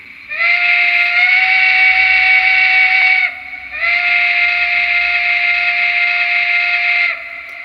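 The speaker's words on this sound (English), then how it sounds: "Okay, so here's the whistle." Two long, steady blasts of a high-pitched steam whistle on a simulated Bethlehem Steel 0-6-0 switcher locomotive in a train simulator, each lasting about three seconds with a brief pause between them, loud and close.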